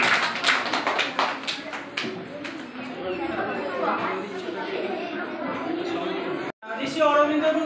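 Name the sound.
children applauding at school quiz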